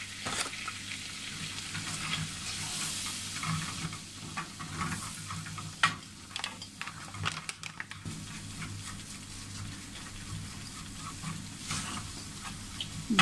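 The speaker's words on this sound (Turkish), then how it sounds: "Bir yemek kaşığı kadar mısır unumuzu ekliyoruz." Corn flour fries in melted butter in a pan while being stirred, producing a soft, steady sizzle with intermittent scraping and stirring clicks, close and fairly quiet, with no voices.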